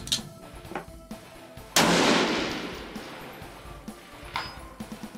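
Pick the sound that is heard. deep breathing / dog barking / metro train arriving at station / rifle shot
rifle shot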